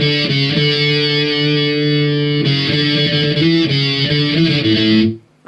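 Distorted electric guitar plays the intro riff of a song, with steady chugging notes and a shift in the chord pattern halfway through, loud and close before cutting off abruptly near the end, no talking.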